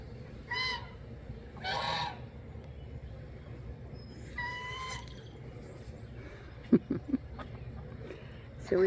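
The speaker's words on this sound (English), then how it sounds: "let's go down here and look at these geese. They're going to yell at us." Geese on a farm honk in a few scattered calls at a moderate distance, with some clattering noises and a faint background hum.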